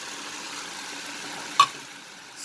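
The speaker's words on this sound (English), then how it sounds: "I will fry till the rawness of the ginger garlic paste disappears" Ginger garlic paste fries in a pan with a faint, steady sizzle, broken once by a short clink of the spoon as it is stirred.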